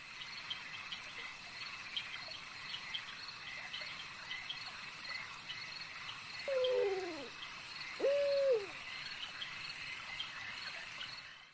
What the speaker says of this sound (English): I notice the hooting of owls and the swooping of the bats